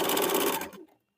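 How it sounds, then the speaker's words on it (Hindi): A sewing machine stitches the bottom hem of a short men's kurta in a fast, even run that slows and stops partway through, leaving silence. "इसके बाद हम लोग नीचे वाले साइड का सिलाई कर लेंगे।"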